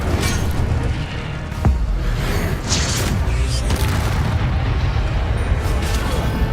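A fire spell cast in a video game erupts as a loud, sustained booming blast with crackling roar, dense and continuous throughout, with a sharp impact near the start.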